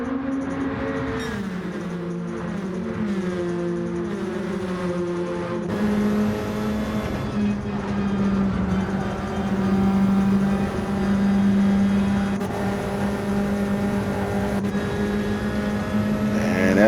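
Race cars in Gran Turismo 7 drone through a last lap, a continuous engine note that rises and shifts in pitch as gears change, loud and steady throughout.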